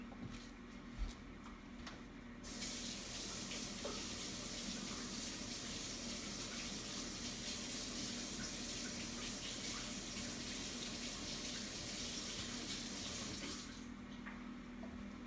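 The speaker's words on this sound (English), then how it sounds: "you just run some hot water" Hot water runs from a tap under a plastic ice cube tray, a steady soft rush that starts after a couple of seconds, holds for about ten seconds and then stops.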